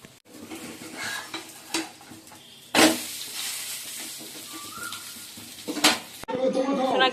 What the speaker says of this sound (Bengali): ডিম টোস্ট করছি